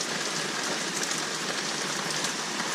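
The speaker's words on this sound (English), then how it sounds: "we're having a bit of a downpour. I don't think we need any more rain." Heavy rain downpour, a dense, steady hiss of drops pouring down without pause, loud and close, with no voices.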